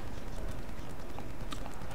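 Galloping hooves pound in a horse racing video game, a fast, continuous clip-clop drumming from a whole field of horses, loud and close throughout, with no talking.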